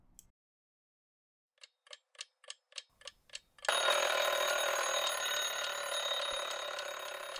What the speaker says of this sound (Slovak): Zas ten budík.